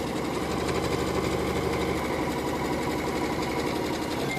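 A sewing machine stitches the side seam of NHS scrubs, a steady, fast mechanical whirring and rapid needle clatter running close and continuous throughout.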